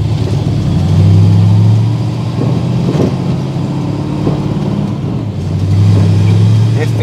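A cold Ford 302 V8 running on choke, its steady mid-pitched hum swelling twice into brief revs near the start and end, loud and close, with faint talk over it.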